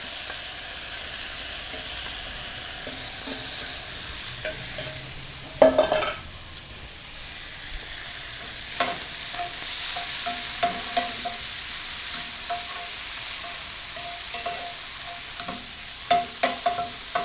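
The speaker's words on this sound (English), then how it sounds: "So immediately we're going to throw in our Mfushwa. Just let that fry off." Mfushwa, dried vegetables, fry in a pan with a soft continuous sizzle, broken by scraping stirs and a sharp clatter of the utensil against the pan; no one speaks.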